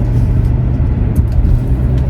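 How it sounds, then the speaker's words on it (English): A car rolls slowly through a gate, heard from inside the cabin as a steady low engine and road rumble at close range with no other sounds. "I have to drive through the gate now"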